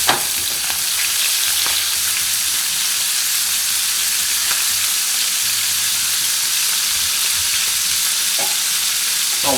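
Chicken fries in a pot with a loud, continuous sizzle, close by, with a few sharp clicks and knocks from stirring or handling scattered through.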